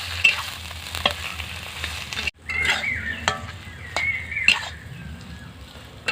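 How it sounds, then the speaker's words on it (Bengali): Boiled potatoes are tossed with spices in a hot pan, giving a steady sizzle close up with repeated scraping strokes and knocks from a spoon. Sound cuts out briefly midway, then the stirring resumes. "এখানে আমি আগে থেকে আলু সিদ্ধ করে রেখেছিলাম, দিয়ে দেব। মশলার সাথে ভালো করে নেড়ে নেব।"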